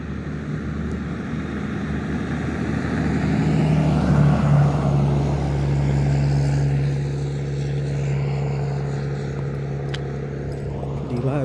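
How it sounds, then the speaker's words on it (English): A loud truck passes on a street near a fire department in Lompoc, a broad engine roar swelling in the middle and fading away, with no talking. "loud truck, eh?"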